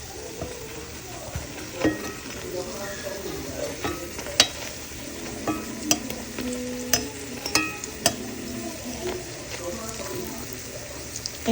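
Fritters crackle and sizzle in a frying pan with a steady hiss, punctuated by repeated stirring scrapes and light clinks, with a faint voice in the background.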